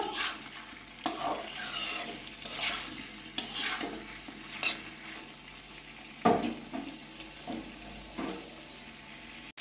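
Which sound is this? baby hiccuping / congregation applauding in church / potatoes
potatoes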